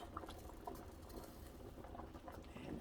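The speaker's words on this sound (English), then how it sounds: "that is boiling nicely" Water bubbles faintly in a pot on a kitchen stove, a soft, continuous burbling patter with small pops, heard close but quiet.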